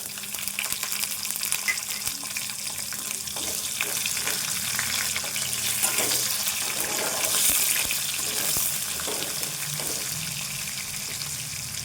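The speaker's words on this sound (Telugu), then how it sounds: "ఇప్పుడు ఇది తాలింపు వేగినాయి కదా, ఉల్లిపాయ వేసుకుందాము." Onions sizzling in hot tempering oil for a potato fry, a steady close crackling hiss with occasional clinks of stirring throughout, no voices.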